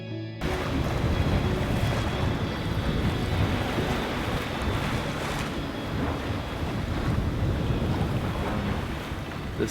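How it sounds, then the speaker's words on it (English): Steady rush of wind and breaking sea waves aboard the sailing vessel Prism off southern Baja, loud and continuous with gusting swells and no voices. "The seas and wind have increased."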